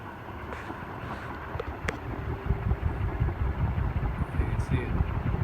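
A vintage SMC 48-inch industrial ceiling fan runs at full high speed, giving a steady broadband whoosh of rushing air with a low rumble that swells slightly partway through, close and continuous.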